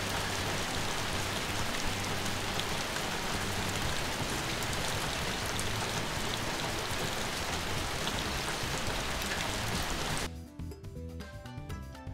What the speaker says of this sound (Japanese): 雨が降ってきました。